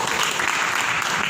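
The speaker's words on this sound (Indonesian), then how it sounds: "Tepuk tangan dulu untuk riset." A short burst of audience applause during a medical lecture on the coronavirus, the clapping thick, even and close.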